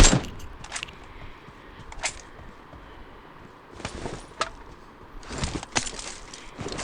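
Several sharp bursts of gunfire in PUBG as a bot is killed, with short volleys spread across the stretch over a low, steady game background at moderate loudness.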